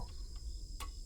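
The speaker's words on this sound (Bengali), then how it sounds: "বাইরে ঝিঝি পোকা ডাকছে এক টানা," Crickets chirp in a continuous high-pitched trill at night, steady and moderately faint, with no voices.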